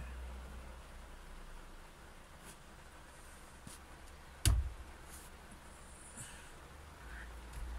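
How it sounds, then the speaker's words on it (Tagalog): Heavy rain patters steadily on a car, a soft even hiss from inside the vehicle, broken by one sharp thump midway and a few faint clicks. "lumakas na naman ang ulan"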